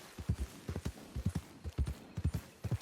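Horse hooves clip-clop at a steady walking rhythm in the Red Dead Redemption 2 western video game, a string of close, evenly paced thuds with no one speaking.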